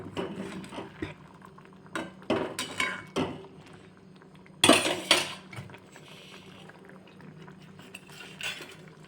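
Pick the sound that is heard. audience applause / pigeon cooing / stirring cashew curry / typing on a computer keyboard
stirring cashew curry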